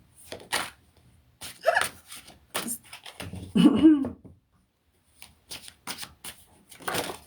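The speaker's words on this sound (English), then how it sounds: "I'm just going to shuffle the cards" Brisk riffle-and-bridge shuffling of tarot cards in several short bursts with pauses between, close up and crisp, with no talking.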